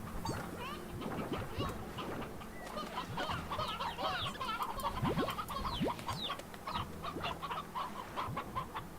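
Chickens and roosters in the Slime Rancher video game cluck and squawk repeatedly in a busy, overlapping chorus over a low steady hum, the calls close and fairly loud throughout.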